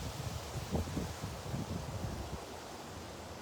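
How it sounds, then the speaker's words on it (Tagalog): Wind blowing outdoors in a rural yard, a soft continuous rushing with faint low gusty buffeting, quiet and steady with no voices. "Mahangin ngayon dito."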